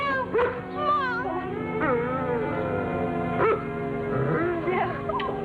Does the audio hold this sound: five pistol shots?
no